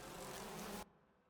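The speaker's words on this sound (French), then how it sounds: "Oui, une gigantesque ruche." Bees swarm in a giant hive in the Resident Evil game, a dense, steady buzzing drone that cuts off abruptly, leaving faint background hum.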